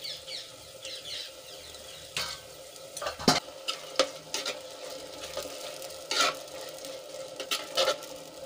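A spoon stirs onion and tomato puree in a pan, with repeated scraping and clinking strokes over a low, steady frying sizzle, close and moderately quiet.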